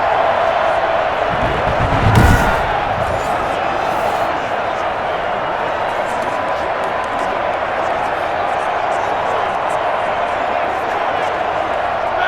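Stadium crowd in Madden NFL 21 during a Pittsburgh Steelers vs Denver Broncos game: a steady, dense roar fills the whole stretch and swells briefly near the start, with a commentator talking over it.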